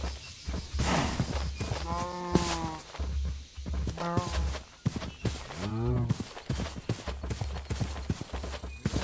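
A cow mooing in the Minecraft video game, with repeated drawn-out moos and hoof clip-clops from farm animals nearby, fairly loud over a constant game background hum and a few clicks.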